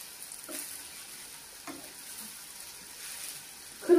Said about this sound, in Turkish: Biraz da pirinçlerim kavrulsun şimdi.